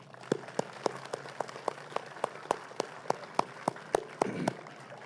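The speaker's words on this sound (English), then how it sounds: "give a round of applause to our student performers right now" Sparse, distinct claps ring out for student performers at the 2023 Ironton Centennial Celebration, a thin, regular patter from a small group, quiet and spaced apart.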